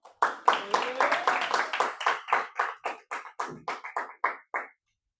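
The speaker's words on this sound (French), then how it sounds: "on peut applaudir Valentin" An audience at an internal advocacy debate match claps for a speaker in a short burst of individual hand claps that thins out and stops, with a few voices murmuring underneath.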